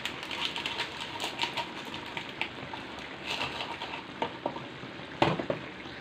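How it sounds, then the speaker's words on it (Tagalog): Ginataan upo with sardines being stirred in a pan, a steady close bubbling sizzle with scattered scraping clinks of the spoon against the pan, no talking. "Haluin natin."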